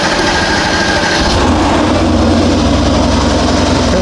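A 2019 Mercedes-Benz GLC63s with the M177 engine and a misfire fault starts up close by and settles into a loud, rough, uneven idle with a throbbing low rumble.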